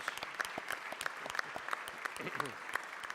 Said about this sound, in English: Let's give a round of applause to Frederica Williams.